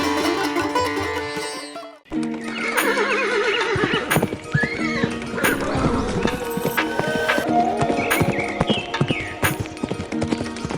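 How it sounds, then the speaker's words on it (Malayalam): A horse neighs and its hooves clip-clop steadily as it is ridden along a forest path, a storybook sound effect layered over continuous background music throughout. "ഒരിക്കൽ നമ്മുടെ മന്ത്രി വനപാതയിലൂടെ കുതിരപ്പുറത്തേറി ഒരു ദീർഘയാത്ര പുറപ്പെട്ടു."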